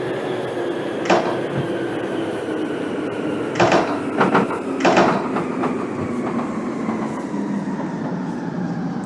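A metro train in Metro Simulator 4 rumbles steadily while braking, with brief bursts of hiss and squeal standing out over the continuous rolling drone.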